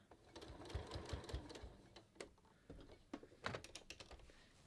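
A sewing machine makes a few short stitches across the fabric of a top while a kangaroo pocket is attached: brief bursts of quiet rapid ticking separated by pauses, with light handling noises, close and faint.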